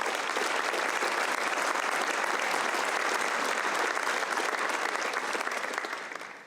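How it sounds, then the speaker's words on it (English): An audience at a scholarship awards night claps steadily and loudly for several seconds, a dense, even wash of applause that fades slightly at the end. "I wanted to give them a round of applause"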